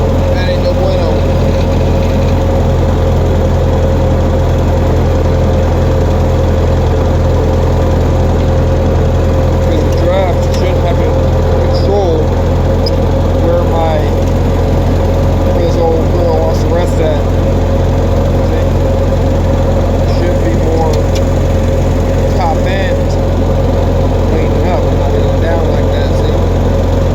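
An old cheap tractor under refurbishment idles steadily close by, giving a loud, constant engine drone with a fixed hum throughout and a few faint clanks on top.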